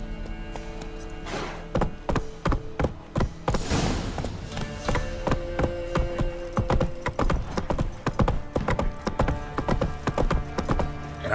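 Geralt's horse Roach gallops in The Witcher 3, with loud, rapid, rhythmic hoofbeats close up throughout, a brief whoosh or snort partway through, and faint tack jingling under the steady clip-clop.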